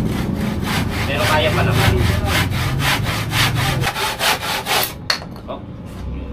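A dull hand saw rasps through a sheet of plywood in steady, rhythmic back-and-forth strokes, loud and close, slowing to a few final strokes before stopping; a voice speaks briefly.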